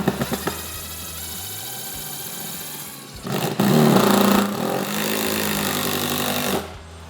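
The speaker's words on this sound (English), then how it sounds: "Then I'm going to take my screw gun, take my fastener." Screw gun driving a 3-inch fastener into a wood roof deck, a sustained motor whine that bogs and surges as the screw bites, with a louder stretch midway, close and alone.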